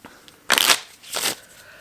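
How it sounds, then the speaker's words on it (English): A deck of playing cards being shuffled in two quick riffling bursts, a fuller burst followed by a shorter one after a brief pause, close and fairly loud against a quiet room. "we will just put that card back in and shuffle for draw number 2"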